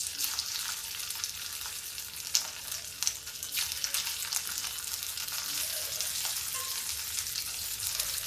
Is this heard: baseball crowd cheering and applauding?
no